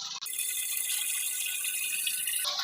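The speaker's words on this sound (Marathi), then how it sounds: "आणि यानंतर सगळ्या शेवटी आपण घालतोय ताक" Buttermilk is poured into a cow dung slurry mix in a steady, rattling stream, a bright continuous splash heard up close from start to finish.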